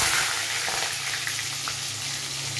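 Washed potatoes fry in hot oil tempered with cardamom and cinnamon for a jackfruit curry, giving a steady, close, continuous sizzle with no talking.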